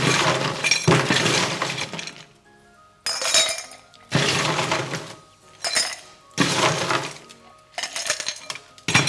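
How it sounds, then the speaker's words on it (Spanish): Ice cubes drop into a glass for a gin and tonic in a run of sharp clattering, clinking bursts, about five separate pours with short quiet gaps between them, loud and close. "Vamos a agregar bastante hielo rolo hasta arriba"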